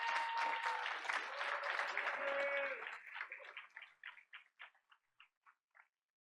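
A room at a board of education meeting breaks into a round of applause that starts full and dense, then thins out over several seconds into a few scattered, fading claps.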